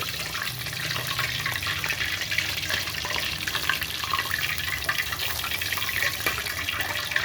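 Hot water poured steadily over cooked chicken skin for a fried chicken dish, a loud close splashing stream that runs without a break throughout.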